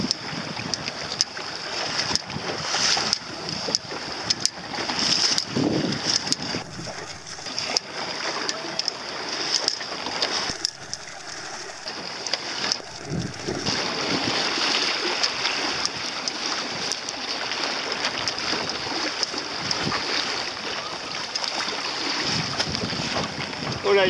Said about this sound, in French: Oh là, il y a des vagues.